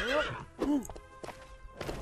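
A horse whinnies in the video game LEGO Worlds, two loud close neighs with rising and falling pitch, then light hoof clip-clops.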